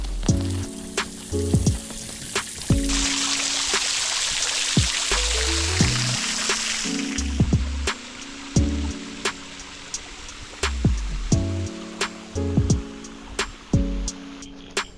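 A small waterfall at Wondabyne pours in a steady broadband rush, close and continuous, with a few sharper splashes and knocks breaking through the flow.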